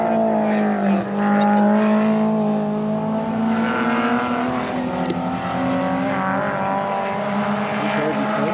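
Race cars including a Miata on a track day circuit, a steady engine drone with rising and falling revs, close and continuous, with a voice talking over it.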